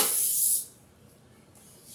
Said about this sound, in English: Now we got them all cut up with some olive oil spray.